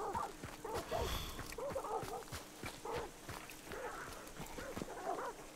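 Dogs in the video game Hunt: Showdown 1896 bark and whimper repeatedly amid steady game ambience, with yips and scuffling footsteps mixed into a busy, continuous background.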